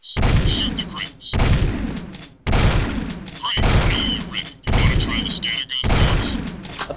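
Gunfire in the video game Jak 2 as Crimson Guard crates are shot, several loud booming bursts in quick succession with brief gaps between them.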